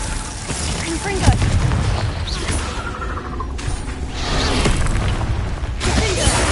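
Fire-blast spell explosions cast in a Harry Potter video game, a dense run of booming blasts and crackling bursts over continuous game noise, loud and close with little pause between them.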